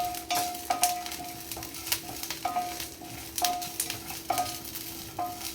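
Seasonal chutney mixture stir-fried over high gas, steady frying hiss with repeated metallic scrapes and clinks of a spatula against the pan at an uneven rhythm.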